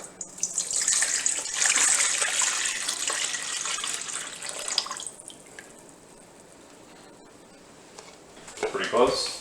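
Water poured into a bowl sitting on a kitchen scale for sourdough pizza dough, a steady splashing stream for about five seconds that fades, with a brief clatter near the end.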